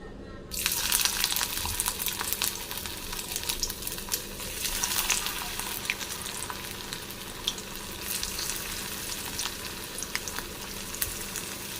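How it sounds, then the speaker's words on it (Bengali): Stuffed teasel gourds (kakrol) frying in hot oil in a kadai, a loud, dense, continuous sizzle that starts suddenly and holds steady throughout, with no talking. "তেলটা গরম হয়ে গেছে এক একটা দিয়ে দেব"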